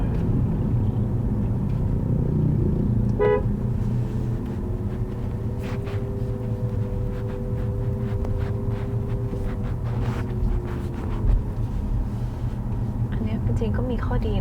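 A BYD Seal electric car climbing a mountain road at Doi Ang Khang emits its low-speed pedestrian warning, a steady, faint hum-like tone held for several seconds beneath ongoing conversation and constant cabin road rumble.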